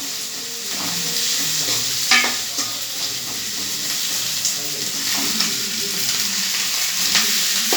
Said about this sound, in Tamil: இதெல்லாம் போட்டு வதக்கணும்.